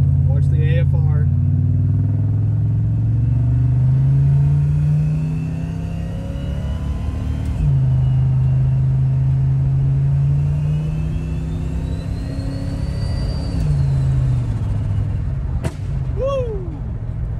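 A turbocharged V8 police car pulls away in first gear at part throttle, with a loud, close engine drone that rises, shifts and rises again, partly under a voice, and a sharp pop near the end.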